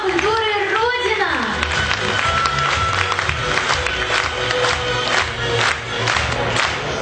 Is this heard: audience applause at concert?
yes